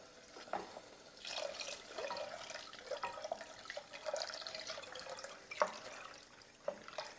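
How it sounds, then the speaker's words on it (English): Water poured from a measuring container into a cooking pot for spaghetti, a steady splashing pour with a few louder drips and gurgles, close by and alone. "we're going to add in 3 cups of water"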